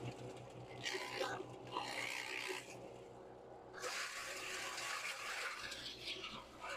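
An agricultural grinder shreds hard mango wood, a steady mechanical roar with rising surges of crunching and shredding as pieces feed through, loud and close throughout.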